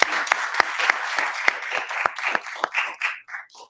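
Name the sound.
delayed round of applause for committee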